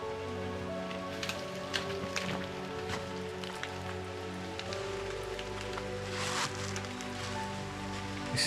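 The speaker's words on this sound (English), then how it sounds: "I'm just tucking out of the rain here," Rain falls steadily on Palm Island, a continuous patter of drops on nearby surfaces with scattered sharper taps, heard close and alone without any talking.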